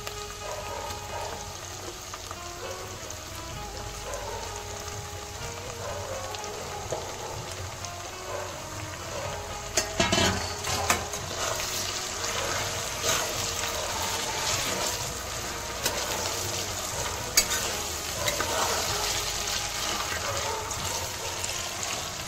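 Mutton frying with onions in a pan: continuous watery sizzle that grows louder and busier midway as the meat goes in, with some stirring clatter and occasional talk underneath.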